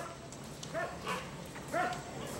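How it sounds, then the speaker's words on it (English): Stray dogs in Bali yip and bark at night, a few faint, distant calls rising over a low, steady background hiss. "the musicians have to brave stray dogs that roam in packs at night"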